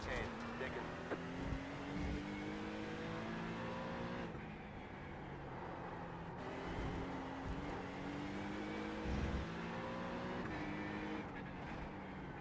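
An Acura GT3 race car roars through a sim-racing lap at Fuji in iRacing, engine holding a loud sustained tone with gear shifts and revs rising and falling, under occasional talk.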